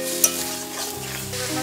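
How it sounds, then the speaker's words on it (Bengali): Fried potatoes and soybeans being stir-fried with spices in a pan, giving a steady close sizzle with scraping stirs and one sharp clink near the start, no voices. "ভেজে রাখা আলুগুলো দিয়ে দেব। সয়াবিনগুলো দিয়ে দেব। মশলার সাথে একটু ভালো করে কষিয়ে নেব।"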